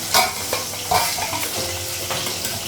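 Fish goes into a hot pan of oil for a Bengali fish curry and sizzles: a loud, steady crackling hiss broken by a few scraping stirs, with no voices.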